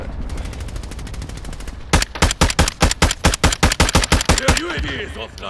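Rapid automatic gunfire in a Call of Duty Resurgence quads match on Ashika Island: a long, evenly spaced burst of loud, close shots, faster and lighter at first, then heavier and more distinct.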